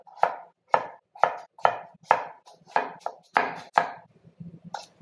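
Knife chopping peeled potatoes into chunks on a board: about nine crisp, evenly spaced strikes, close and fairly loud, then a softer pause with a few lighter knocks.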